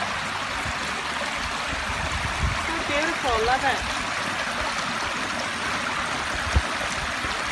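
Fresh water pours steadily into a small natural pool outdoors, a continuous rushing stream with a person talking briefly over it.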